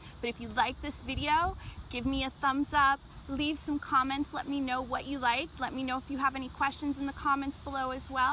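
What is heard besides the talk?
cicadas singing outdoors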